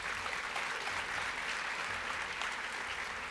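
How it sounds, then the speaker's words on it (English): A crowd at a CosmoProf Premiere Orlando hair color stage show claps steadily in dense, continuous applause that stays even and loud throughout, with no voices standing out. "everyone should just give him a round of applause"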